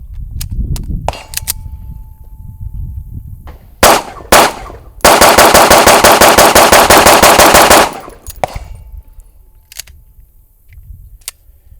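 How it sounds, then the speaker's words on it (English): A 2011 pistol fires at an outdoor range: a few sharp single shots, then a fast, loud, evenly spaced string of rapid fire lasting about three seconds, followed by scattered clicks and handling sounds. "Let's put some rounds through it."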